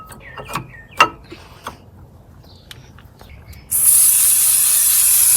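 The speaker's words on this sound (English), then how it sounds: "Before you put your pads on, make sure you give them a squirt with some brake cleaner." Brake cleaner sprayed from an aerosol can onto Renault Clio front brake pads in a garage, a loud steady hiss starting partway through and running to the end after a few soft clicks and handling knocks.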